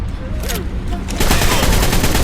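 Rifle gunfire in Ark: Survival Evolved, a loud rapid burst of game shots that thickens into dense continuous firing halfway through, close and overpowering.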